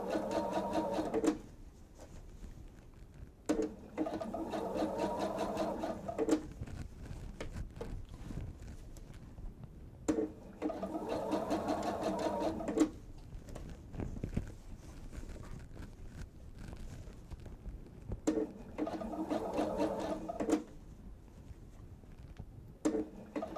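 A sewing machine stitches a two-bottle wine tote in close, steady bursts of rapid mechanical whirring, each lasting a few seconds and separated by quieter pauses with faint handling noise.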